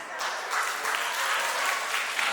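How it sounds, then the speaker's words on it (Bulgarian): A village spring concert audience in Yagodovo claps in a dense, steady burst of applause, full and sustained for a couple of seconds, no voices on top. "Аплодисменти за игра!"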